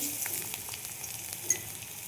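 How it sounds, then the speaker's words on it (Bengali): Bitter gourd fries in a pan with a soft, steady sizzle and small pops and clicks from stirring, fairly faint and close, with no voices. "উচ্ছেগুলো আমি ভেজে নেব।"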